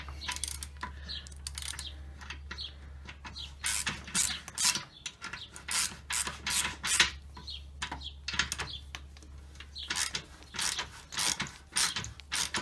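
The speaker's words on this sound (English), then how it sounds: "So we'll just go ahead and screw this in." Close clicking and ratcheting as a water temperature sensor is screwed into a car radiator on a Mini John Cooper Works, with irregular short metallic ticks in quick bursts over a low steady hum.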